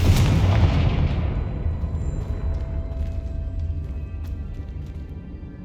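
A Confringo explosive spell goes off during Hogwarts Legacy gameplay. It opens with a loud, close blast and then a long rumbling decay that fades across several seconds.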